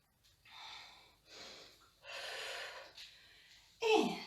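Slow, deep breaths in and out during a balance exercise, a series of soft close airy inhales and exhales with a sharper gasp at the end.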